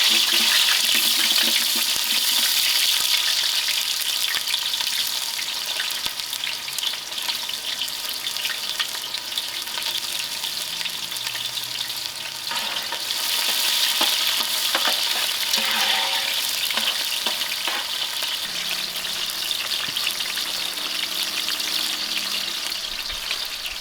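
Dense, continuous hiss and crackle of three roughly sliced onions frying in hot oil over an outdoor fire, loud and close, steady for the whole stretch with occasional stirring, no voices.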